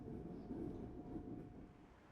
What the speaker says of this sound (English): It was recorded aboard a high-capacity metro train, or HCMT for short